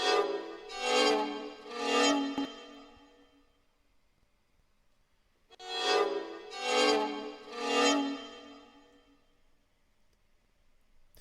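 Two phrases of bowed violin chords, dissonant like an altered seventh, each with three swelling strokes, separated by a pause of near silence; moderately loud and rich in harmonics.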